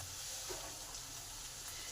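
Prawns fry in hot oil, turning red as their shells loosen, giving a dense, even sizzle that holds steady and fairly quiet for the whole moment with no voices.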